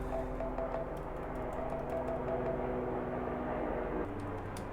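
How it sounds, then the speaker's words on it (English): Fingers tap steadily on a Logitech K380 mini keyboard, a run of light, close plastic key clicks over a low background rumble. "I like the keyboard that I'm typing away"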